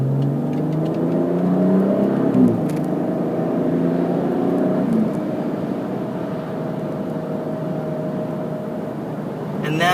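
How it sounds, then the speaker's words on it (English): A 2017 BMW X4 M40 in eco mode drones steadily at low pitch with a smooth, continuous exhaust rumble, fairly loud and close, holding steady throughout. "that exhaust note is in eco mode"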